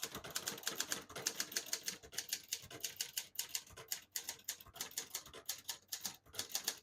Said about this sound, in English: I'll just type a sentence in the yellow, which is right down the middle